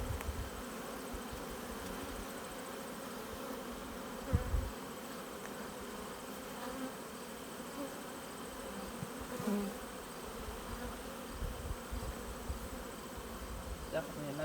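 Honey bees at a bee farm buzz steadily around an open hive frame of brood, a dense, continuous drone close by with no talk over it.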